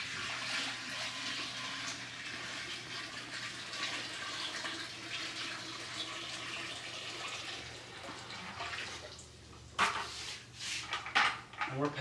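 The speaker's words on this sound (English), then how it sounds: "Go ahead and get this water in." Ice-cold water pours steadily into a fermenter, a continuous rushing splash that runs for several seconds before breaking into a few sloshing bursts near the end.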